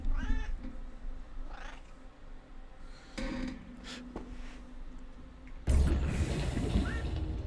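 A pet cat sitting in a lap lets out several drawn-out, wavering meows, close and moderately loud, among quiet room noise and occasional clicks, with no talking.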